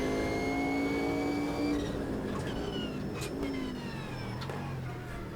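A Group C race car engine in Automobilista 2 screams under hard acceleration at retro Spa, its steady high revving tone holding near and loud before a quick upshift and further pull at high speed.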